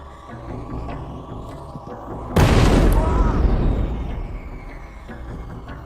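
A bomb blast erupts partway through in a university computer science department's coffee room, following a low background murmur, then rumbles and decays slowly over several seconds.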